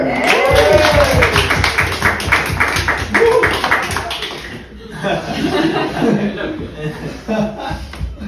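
An audience at a magic show claps loudly and densely, with chuckles and laughter mixed in and voices talking over the clapping before it fades.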